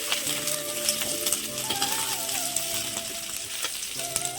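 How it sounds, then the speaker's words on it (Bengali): Apple snails (gugli) fry steadily in hot oil, a dense continuous sizzle close by with faint tonal hum running underneath and no voices. "আমি তেলের মধ্যে গুগলিটা দিয়ে দিলাম, দিয়ে ভালো করে একদম ভেজে নেবো।"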